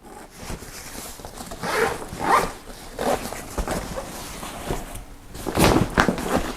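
Zipper on a Goruck Kaidan GR2 backpack with Aqua Guard number 8 zippers, several short rasping pulls spaced across the clip, close and fairly loud with no talking.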